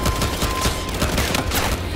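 Dense, sustained gunfire in the police-versus-criminals shooter Battlefield Hardline, a continuous loud volley of overlapping shots across the whole stretch with no talking.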